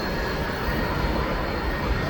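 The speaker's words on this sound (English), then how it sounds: "And that's the end of the train there." A CN mixed freight train rolls past Argenson Park onto the Butler spur, a steady, dense roar of wheels on rail that stays loud and even for the whole stretch, with no voices.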